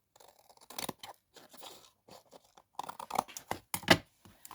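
Scissors snip through leftover fabric strips at a craft desk, a quick series of close, crisp cuts and rustles with short pauses between them, no talking.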